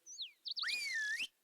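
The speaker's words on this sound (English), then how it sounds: "I just figured out that there's a whistle effect." A game whistle meant to stop an animal in Hunter: Call of the Wild gives two quick high chirps, then a short rising-falling call sweeping down and back up, clear and close against silence.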